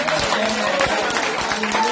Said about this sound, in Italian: Ora si fate un forte applauso al Signore Gesù.